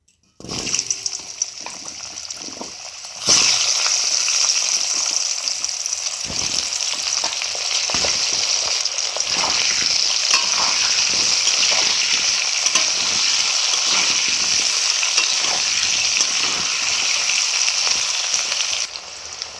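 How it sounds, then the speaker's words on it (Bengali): Potatoes fry in hot oil seasoned with turmeric and salt, a steady loud sizzle that jumps up after a brief quieter start and holds dense and close, with occasional stirring scrapes. "প্রথমে আমি আলুগুলো ভেজে নেবো"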